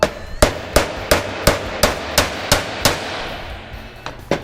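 A clutch part is tapped into place on an IVAN mm, about ten sharp, evenly spaced hammer taps ringing close and loud, then a short pause and two final taps.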